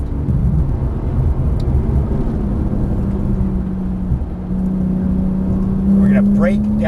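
Porsche 991 Turbo S engine building under throttle on a track, a steady low droning roar with a rising tone near the end, continuous and close, with an instructor talking over it.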